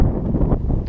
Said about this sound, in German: es ist nur ein bisschen windig, aber sonst passt es